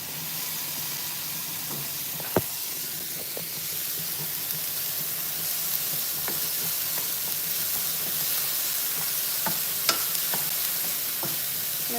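Food frying in a very hot stainless steel pan while a wooden spoon stirs it, a continuous hiss and sizzle with scattered clicks and scrapes of stirring, close and steady throughout.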